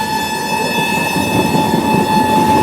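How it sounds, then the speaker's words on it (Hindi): Express trains crossing on the outskirts of Parbhani Junction, heard from a general-class coach of the Marathwada Express as a steady, loud rumble of wheels and carriages, with a sustained horn tone running throughout. "परभनी जंक्शन के आउटर पे हमारी ट्रेन की क्रॉसिंग हो रही है"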